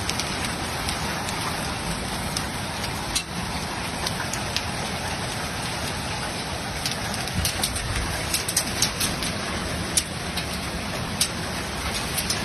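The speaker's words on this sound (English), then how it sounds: "A family gathering inside a lounge room, watching hail batter the windows." Hail and rain batter windows during a severe Australian hailstorm, a dense steady roar of impacts with sharper individual cracks scattered throughout, and a dove cooing faintly in the background.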